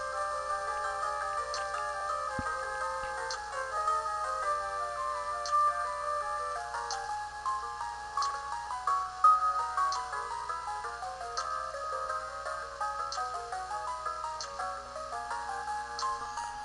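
Phone ringing in Castlevania: Aria of Sorrow, a repeating electronic tune with regular ticks that plays steadily and alone for the whole stretch.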